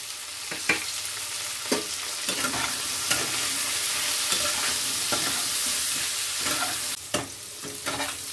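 Vegetables fry in a pan with green chilli, salt and turmeric, giving a steady close sizzle broken by repeated scraping clicks of stirring throughout, with no voices.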